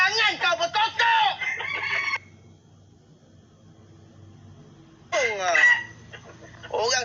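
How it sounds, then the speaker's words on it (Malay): A rooster crows loudly and close, two long cock-a-doodle-doo calls separated by a few seconds of near quiet, with a low background hum. "Bila orang tengah nyanyi, jangan kau berkokok."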